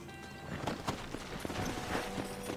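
Quick, steady clip-clop of horse hooves at a trot in the video game Red Dead Redemption, over a constant background hum, with a brief whinny mixed in.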